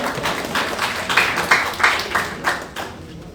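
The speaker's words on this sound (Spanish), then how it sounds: "Un buen aplauso, por favor." Audience applause at a national assembly of Peruvian ronderos, loose and uneven, with a few sharper individual claps standing out near the end as it thins and fades.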